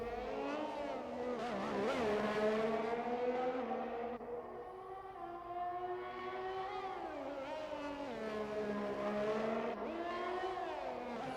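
An F1 car in the video game F1 2021 runs a lap of the Russia circuit, its engine wailing high and loud, rising and falling through gear changes and corners, with no talk over it.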